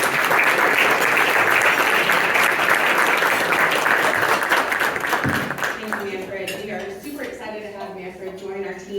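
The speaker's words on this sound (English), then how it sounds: "So please give a round of applause for Glenn as she talks to us about the impor" A convention audience of young conservatives in Dallas gives a loud, dense round of applause for about five seconds, which then fades as a speaker starts talking.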